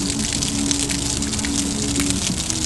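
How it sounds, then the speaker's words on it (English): Cooling water pouring steadily from an outboard boat engine under repair, a continuous close splashing gush with no pauses and no talking. "That's the water coming out of the engine."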